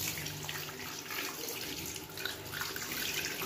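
Water runs and pours steadily over a pet during its bath, a continuous splashing gush like a tap filling a tub, with no talking.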